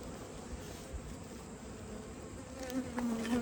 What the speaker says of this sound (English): Look at all those bees. That's a strong colony.